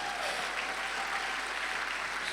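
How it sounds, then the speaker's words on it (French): A church congregation at an evangelical service in Lyon applauds with steady, dense clapping that fills the room, continuing evenly from start to finish with no pauses. "On peut applaudir Dieu"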